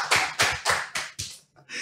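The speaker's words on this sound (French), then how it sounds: "moi, Marie, on l'applaudit pour ça." An audience claps for Marie in a row of distinct, rhythmic, unison claps, about six evenly spaced sharp bursts with a brief pause before a final one, close and fairly loud.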